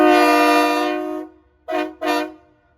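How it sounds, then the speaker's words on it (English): New train horns mounted on a truck blast loud and close, first one long sustained chord fading out, then two short toots in quick succession. No voices are heard. "Doug just got him some new train horns"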